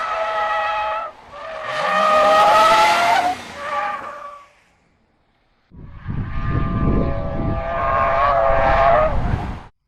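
A Ford Crown Victoria's engine revs with tires squealing as its rear slides out in oversteer through a turn, loud and close, a brief gap of near silence, then more engine roar and tire screech.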